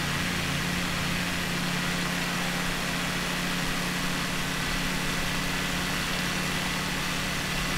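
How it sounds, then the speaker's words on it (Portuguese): A steady aircraft engine throttled back in Microsoft Flight Simulator 2020 during a descent over the Itaipu dam. It gives a constant broadband drone with a low hum underneath that holds unchanged throughout. "Estou dando uma reduzida no motor aqui para ele não forçar muito"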